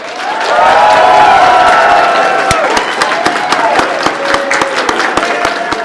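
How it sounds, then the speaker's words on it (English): A convention audience at Lvl Up Expo applauds and cheers loudly, with sharp claps standing out as the clapping thins toward the end. "give a big Round of applause for Steve Blum and Mary Elizabeth McGlynn."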